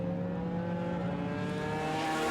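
Historic sports sedans, including a Charger with a V8 NASCAR engine, accelerate away at a race start through the esses at Winton, a steady droning engine roar with rising harmonic tones, heard from a distance.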